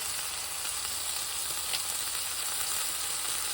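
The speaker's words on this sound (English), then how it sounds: "There's our curry mix going into there." Coconut curry mix sizzling in a pan, a dense, even hiss that stays close and constant throughout with no other sounds.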